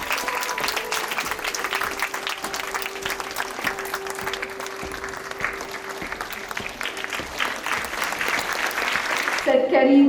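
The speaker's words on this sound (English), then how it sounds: "Kindly welcome our dignitaries with a huge round of applause." An auditorium audience at a college day celebration applauds steadily to welcome dignitaries, dense clapping filling the whole stretch with a faint sustained tone underneath and a louder swell near the end.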